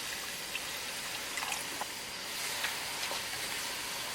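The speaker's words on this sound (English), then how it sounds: "I'm going to add 1 cup water." One cup of water pours into a pan of tomato-based tadka for halibut fish curry, a steady broadband trickle and stream with light sizzling, continuous and fairly close throughout, with no talking.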